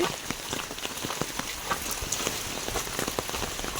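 Steady, dense monsoon downpour in Konkan pattering on a hard surface, with many distinct drops spattering close by and no voices over it.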